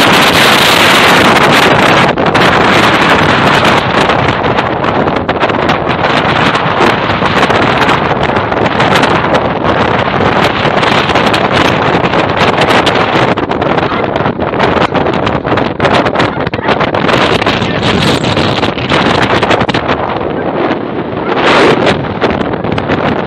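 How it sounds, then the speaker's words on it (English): Strong wind roaring across an exposed fell hillside at Whinlatter in the Lake District, a loud, continuous buffeting rush battering the microphone throughout, with no talk. "Goodness me, that is windy."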